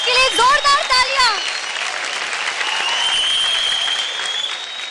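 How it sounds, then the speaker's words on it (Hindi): A studio audience at a televised dance competition breaks into loud, sustained applause right after a brief musical or vocal phrase, the dense clapping holding steady to the end. "जोरदार परफॉर्मेंस के लिए जोरदार तालियां।"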